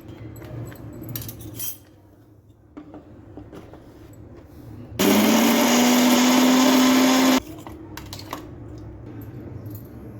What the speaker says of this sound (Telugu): ఈ మిగిలినవి కొంచెం ఉప్పు వేసుకొని రుబ్బుకోవాలి.